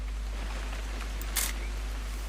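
In the video game What Remains of Edith Finch, a camera takes a photo: one brief crisp shutter click over a steady low hum.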